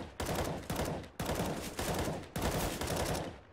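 Rapid bursts of automatic gunfire from a CS:GO competitive match, several loud sustained volleys with brief gaps between them, close and dense.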